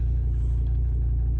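Ford Ranger 3.2 engine with a turbo underboost fault runs close by, giving a deep steady rumbling drone with a low throbbing pulse, loud and unbroken for a brief moment with no talk.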